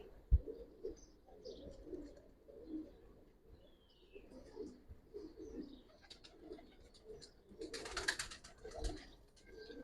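Giribaz pigeons coo softly in a series of low, repeated throaty calls, with a few faint chirps and a brief brighter burst near the end, all fairly quiet and close.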